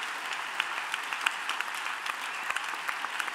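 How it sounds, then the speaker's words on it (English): A large audience of about 3,000 claps for startup pitch contestants at a pitch competition, a steady, dense applause with scattered sharper claps standing out, continuous and fairly even in loudness. "big, big, big applause"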